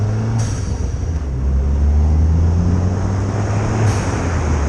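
An Abarth hatchback in sports mode accelerates with a steady, loud engine drone heard from inside the cabin, rising slightly in the middle.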